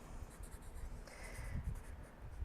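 A pen moving across a sheet of paper during a quiet writing session, with soft, faint scratching strokes running steadily for a couple of seconds and no talking.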